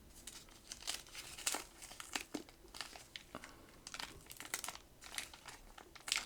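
A foil pack of 1979 television trading cards is torn open by hand, giving close, irregular bursts of sharp crinkling and tearing with short pauses between them. No one speaks.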